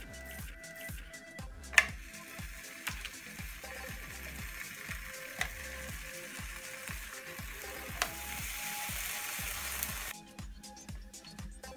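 Turkey bacon fries in a pan with a continuous close sizzle and pops, with a few sharp clicks and knocks along the way, for around ten seconds with no talking.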